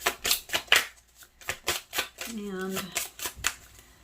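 Tarot cards being shuffled and pulled for a pick-a-card reading. A quick run of crisp card flicks and snaps comes in a rhythmic sequence, with a short murmur of speech partway through.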